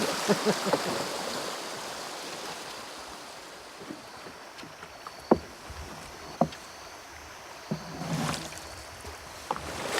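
Canoes paddled down a jungle river, with wooden blades dipping and knocking against the hulls in scattered strokes over a steady wash of moving water, fairly close.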